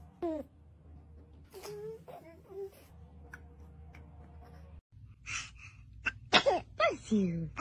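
A baby sneezes sharply near the end, among fussy whimpers, moans and short cries, with an adult voice close by.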